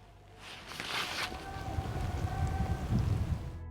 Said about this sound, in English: So the wind's picking up a little bit.